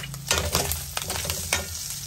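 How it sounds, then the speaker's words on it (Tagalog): Kangkong (water spinach) sautéing and being stirred in a pan, with a steady sizzle and repeated scraping clatters of the spatula at close range. "Igisa natin yung ano, yung kangkong."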